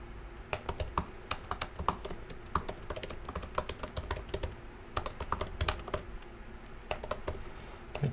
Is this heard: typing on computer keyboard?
yes